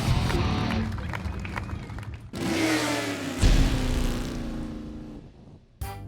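A 1970 Husqvarna cross-country motorcycle engine revs hard, rising in pitch and holding a loud buzzing drone before cutting off and starting again, close by and with no talk over it.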